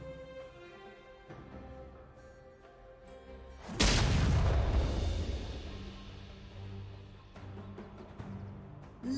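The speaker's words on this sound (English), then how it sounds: "Red Team's turret has been destroyed." A turret explodes in League of Legends: one loud, booming blast with a long rumbling decay, rising out of quieter in-game music and ambience.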